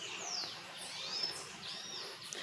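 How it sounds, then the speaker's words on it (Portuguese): Faint birdsong, thin sweeping whistles and chirps drifting in over a steady outdoor background hum. "Do outro ouvindo as músicas dos pássaros"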